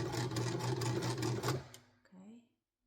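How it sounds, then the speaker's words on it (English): A sewing machine runs a short backstitch while altering thrifted dress pants, a loud, close, rhythmic mechanical whir lasting about a second and a half before stopping, followed by a brief faint vocal sound. "I'm doing back stitch."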